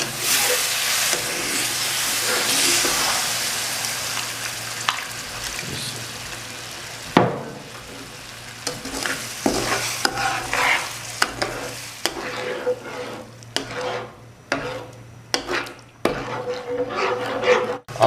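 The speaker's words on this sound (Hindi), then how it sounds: "अब इसमें 1 कप दूध डाल दूंगा और साथ में चम्मच हिलाता रहूँगा" A spoon scrapes and stirs semolina halwa in a pan as milk goes in, steady rubbing and sizzling close up, then uneven knocks and scrapes against the pan's sides.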